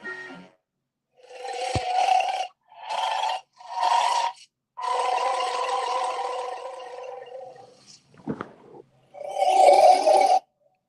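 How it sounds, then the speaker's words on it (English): A video game monster called Meebkin gives a string of growling, groaning vocal bursts, several separate moaning calls broken by short silences, with a brief sharp scrape near the end. "that was the sound of Meebkin right there"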